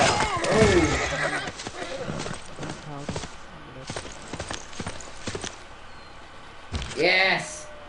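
Horses in Civilization VI neigh and whinny loudly with a galloping clip-clop of hooves, a sharp whinny opening the sequence and another near the end.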